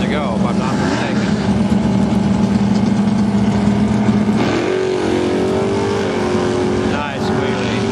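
A Camaro drag racing car roars down an eighth-mile strip at an NHRA divisional event at Portland International Raceway. Its engine drones loud and steady, then shifts pitch partway through, with a commentator talking over it.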